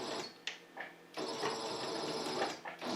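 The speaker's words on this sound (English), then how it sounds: "I'm going to start sewing the first pocket" A sewing machine stitches the first pocket of a makeup brush roll, its steady mechanical whir running faintly with a short pause partway through and small shifts in pitch as the fabric feeds.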